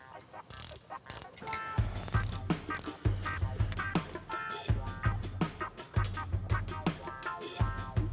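Wrench ratcheting as rocker arm bolts are loosened evenly on a Harley-Davidson Milwaukee Eight engine, with repeated quick clicking bursts and metallic clatter, fairly close and steady throughout.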